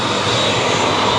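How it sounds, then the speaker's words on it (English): Propeller engines of a Binter turboprop airliner roar steadily on the tarmac before a flight from Lanzarote to Gran Canaria. The drone is loud, close and continuous, with no talking. "it's very loud out here, look, and with the propellers going"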